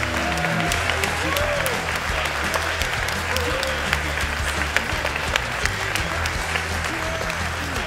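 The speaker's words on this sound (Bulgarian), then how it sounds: "Дайте ни бурни аплодисменти за Любо Жечев" A live audience at a comedy roast for Lyubo Zhechev breaks into loud, sustained applause, dense clapping with sharp individual claps standing out, alongside cheering and some voices.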